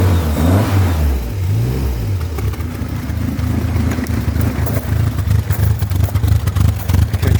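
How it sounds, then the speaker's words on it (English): A car engine runs and revs after a head gasket repair, starting with uneven low rumbles and rising revs, then settling into a steady, smooth, continuous idle drone close by. "God, the engine runs so smoothly!"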